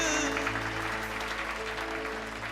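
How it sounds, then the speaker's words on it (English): Applause from guests at a real estate group's grand preview event in Greater Noida, a moderate, continuous patter of clapping over a steady hum of music or amplified background tone. "let's have the loudest applause, ladies and gentlemen"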